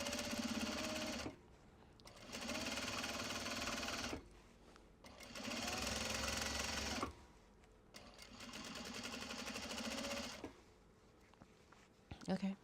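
A sewing machine stitches a Japanese fabric belt bag in four bursts of close, buzzing whir separated by short pauses, with faint handling noise between runs.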